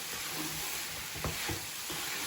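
Pumpkin pieces being stirred in ghee in a pan, a soft continuous sizzle with a few dull scraping strokes of the spoon, close and quiet, no talking.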